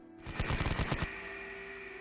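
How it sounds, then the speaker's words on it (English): Rapid burst of medium machine gun fire as a sound effect in a Konflikt '47 tabletop wargame battle, about a dozen quick, evenly spaced shots over under a second, followed by a lingering tonal hum. "Firing with its MMGs first."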